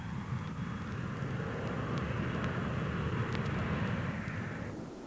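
Large passenger jet taking off from Chicago, a continuous broadband engine roar holding steady and loud before easing slightly at the end.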